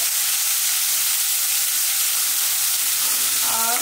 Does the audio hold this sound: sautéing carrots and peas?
yes